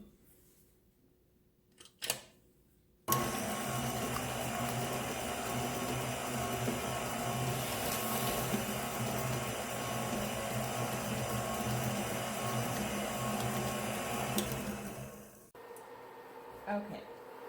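An electric mixer churns lemon curd in a steady, loud whir that starts abruptly, runs for about twelve seconds and then cuts off, with quieter handling sounds before and after.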